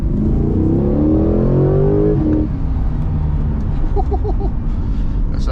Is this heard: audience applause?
no